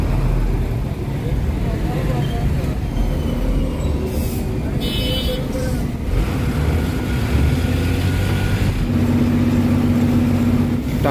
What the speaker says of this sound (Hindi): ट्रैफिक जैम है, देखें जी लाहौर में ये सबसे ज़्यादा मसला है